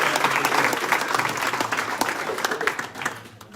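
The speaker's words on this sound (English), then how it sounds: "Nice round of applause again if you would." Audience applauding at a chamber of commerce breakfast meeting, a dense close burst of clapping from a room of people that gradually thins and fades.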